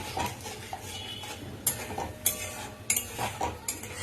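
A spoon stirs and scrapes yogurt spice paste in a pan, with sharp metallic knocks and scrapes at irregular intervals over a low, steady sizzle.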